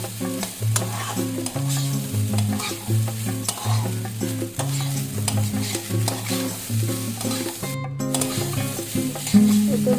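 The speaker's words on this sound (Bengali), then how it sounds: "সবগুলো সবজিগুলো ভালোভাবে মিক্স করে নেব। এটাকে কিছুক্ষণ ফ্রাই করে নিতে হবে ভালোভাবে। এবার আমি ভাতগুলো দিয়ে দিব" Rice and mixed vegetables stir-fried together in a pan for homemade fried rice, with steady sizzling and repeated scraping and stirring strokes throughout, fairly close and even, no talking.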